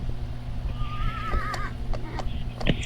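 A horse neighs in the Roblox game 99 Nights in the Forest, one clear wavering whinny over a busy game soundscape with low hum and scattered clicks.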